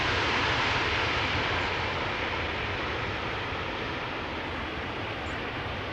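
An airliner arriving at Amsterdam Schiphol applies its thrust reversers, giving a steady, dense jet roar heard at a distance, continuous and even throughout.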